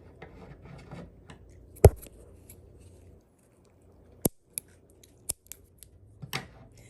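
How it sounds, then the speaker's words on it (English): Scissors snip through crochet yarn at the end of a small coaster, a few sharp close cuts and clicks after a soft rustle, with quiet pauses between them. "Cut your yarn and finish off"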